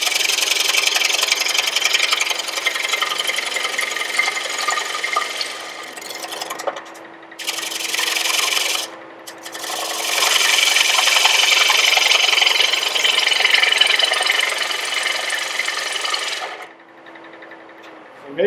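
A gouge cuts steadily across a spinning wooden plate on a lathe, giving a loud, continuous rasping scrape that breaks off briefly twice and then resumes before the cutting stops near the end.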